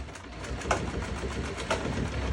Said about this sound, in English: bring the foot down, and then do your lock stitch